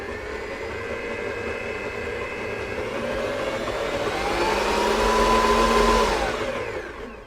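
An electric mixer whirs steadily through sprinkle cake batter with flour and eggs, a close motor drone that climbs in pitch and strength toward the end before cutting off, with no talking.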